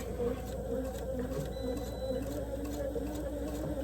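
A sewing machine back-stitching and then running slowly along the curves of a fabric heart garland, giving a steady close mechanical hum with fine rapid stitching rhythm throughout, no talk.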